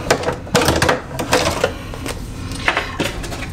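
A Brother PE800 embroidery machine stitches fabric, rattling in quick mechanical bursts that start and stop irregularly, loud and close.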